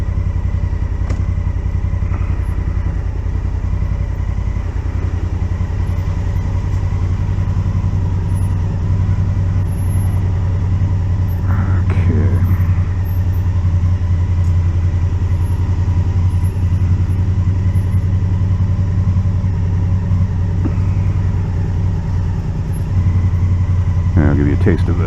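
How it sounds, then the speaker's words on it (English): A 2019 Honda Africa Twin motorcycle engine drones steadily and loudly up close for the whole stretch, with low rumbling and occasional throttle changes. A rider speaks briefly over it. "I'll give you a taste of the throttle."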